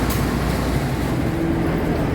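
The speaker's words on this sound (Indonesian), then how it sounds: "Inilah kereta yang kami tumpangi dari Jakarta menuju Yogyakarta" Steady, loud rumble of a passenger train running from Jakarta to Yogyakarta, a dense mechanical roar with a faint whining tone heard from on board, unbroken for the whole stretch and without any talking.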